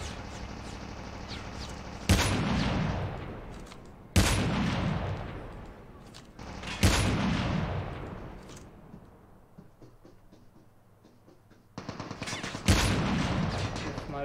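Sniper rifle shots in the mobile shooter game Call of Duty Mobile, three loud booming reports spaced a couple of seconds apart, each trailing off in a long echoing decay, with a fourth heavy blast near the end.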